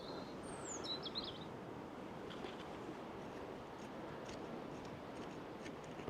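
Birds calling in a Welsh garden, a few brief chirps early on over a steady broadband wash of outdoor background noise, with no talking.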